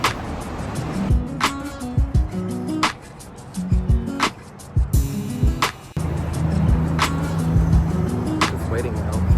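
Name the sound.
street traffic while crossing the street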